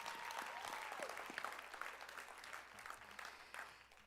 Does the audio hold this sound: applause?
yes